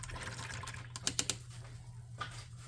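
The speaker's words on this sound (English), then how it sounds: "I better wash my brush out a little bit" Paintbrush rinsed in a water pot while painting a miniature, a few quick faint swishes and taps against the container, quiet and close.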